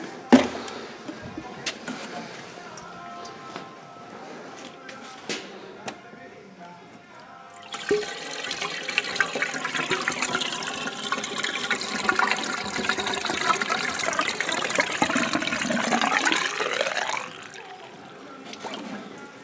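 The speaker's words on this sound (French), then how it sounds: "Comme j'ai pas assez, je vais diluer avec de l'eau." Water is poured in to dilute a fluid during car maintenance on a Citroën Berlingo, a steady trickling pour building after quiet handling noises and running for about ten seconds before stopping.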